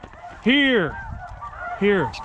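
Ross's geese give two loud, close honks about a second apart, each a rough nasal call, during a waterfowl hunt, with quieter background noise between them.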